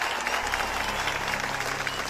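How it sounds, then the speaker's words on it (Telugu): A crowd breaks into applause during a comedy scene in the Telugu film Bengal Tiger, giving a brief burst of dense, steady clapping throughout. "చప్పట్లు."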